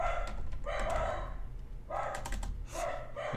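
A dog barks repeatedly in bursts, each a cluster of loud yelps separated by short pauses, moderately close and alone with no talk over it.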